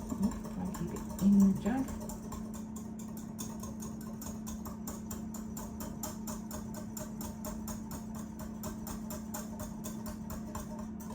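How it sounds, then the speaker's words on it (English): Wet ingredients for carrot cake cupcakes, including rapeseed oil, whisked in a jug: a fast, even clatter of ticks that runs on steadily against a low background hum, after a brief spoken remark at the start. "So give those a whisk."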